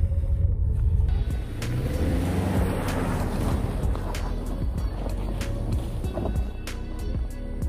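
A Subaru with partly deflated tires pulls free of deep snow during a polar vortex at Indiana Dunes, its engine and churning tires making a loud, continuous close-up rumble that eases slightly after the first second.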